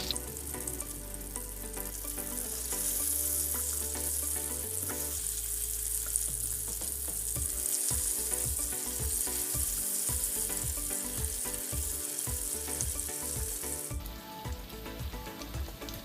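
Masala-coated sardines fry in a hot pan with a steady, loud sizzle and hiss throughout, joined by soft irregular taps and clatter from turning the fish. No one speaks.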